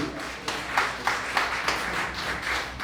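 A church congregation applauds after a sermon reading, steady rhythmic clapping in a broad, moderately loud patter with regular accented beats and no talk over it.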